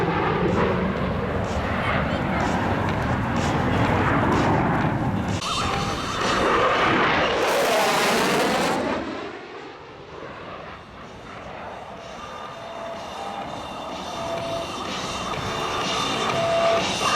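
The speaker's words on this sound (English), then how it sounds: "firstly from the left, a high-speed run by the F-111" An F-111 jet tears past on a high-speed run at an air show, a loud, sustained engine roar that surges to a peak as it passes, then fades into a lingering distant rumble.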